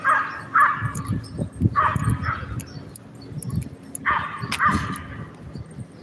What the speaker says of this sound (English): Lots of dogs out this morning